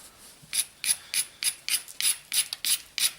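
A Keokuk stone flake blade is ground to shape against an abrasive surface, giving about ten loud, evenly spaced rasping strokes close by, each a short bright scrape, with no talking.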